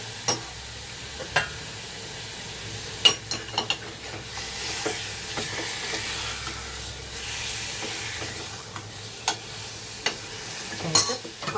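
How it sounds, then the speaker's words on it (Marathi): Dangol fish dropped into cooked masala in a pan, giving a steady close sizzle and frying hiss with scattered stirring clatters and scrapes over about ten seconds, no talk. "आता हा आपला डांगोळ मासा तर हा टाकूया."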